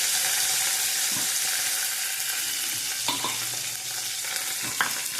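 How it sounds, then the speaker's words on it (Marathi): Green chillies and curry leaves frying in a pan for an Udupi-style peas upma, a dense crackling sizzle with stirring scrapes and a few knocks of the spoon against the pan, no voices. "चांगले हलवून घ्यायचे"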